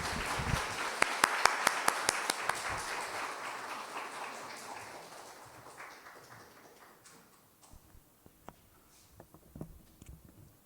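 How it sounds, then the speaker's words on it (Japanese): A church congregation at a Sunday worship service claps to welcome a speaker, starting as lively applause with sharp individual claps, then thinning and fading over several seconds into a few scattered taps. "拍手を持ってお迎えください"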